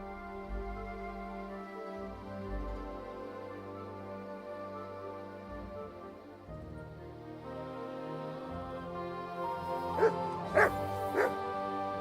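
Dog in Kingdom Come: Deliverance II gives a few short barks near the end, close and distinct, following a long stretch of sustained game music and ambience.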